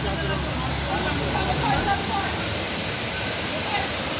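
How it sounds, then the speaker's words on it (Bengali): A waterfall and rushing rainwater pour down a muddy hill path after a night of rain, giving a dense, continuous roar that stays loud and steady throughout. "নিচেই সামনেই ঝর্ণার আওয়াজ পাচ্ছি।"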